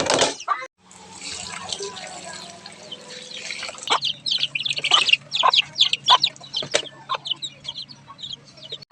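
Chickens clucking at a rural home where one is about to be butchered for a meal, with scattered near clucks and calls over a low steady background hum, busier in the second half.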